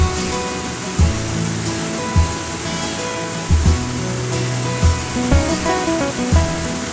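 Steady rushing water roars throughout, a broad constant wash from a waterfall at Chapada das Mesas, Brazil, with a few low thumps breaking through the noise.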